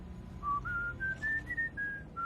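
A person in a car whistles a cheerful tune alone, a clear sequence of steady held notes stepping upward and then settling back down, close and moderately loud.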